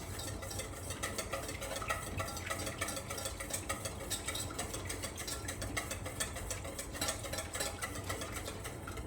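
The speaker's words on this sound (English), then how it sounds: "Now whisk this together." Eggs being whisked briskly in a bowl for eggy bread, a steady, dense, rapid scraping rhythm that runs close and continuous throughout with no pauses.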